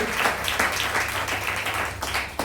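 Church congregation clapping together during worship, a steady dense patter of many hands sustained throughout at moderate loudness, with no talking over it.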